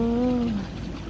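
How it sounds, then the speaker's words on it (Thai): Water of the Chao Phraya River in Ayutthaya flows strongly past in a steady, rushing wash; a short voiced exclamation is heard at the start, then only the water continues. "เสียงน้ำไหล"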